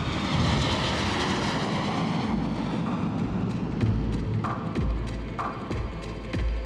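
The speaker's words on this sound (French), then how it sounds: "Cette nuit, c'est un avion en provenance de Buenos Aires, en Argentine, qui rejoint la zone de fret." A cargo airplane arriving from Buenos Aires at Roissy airport at night, a steady loud broadband engine roar filling the whole stretch, with a few dull thumps near the end.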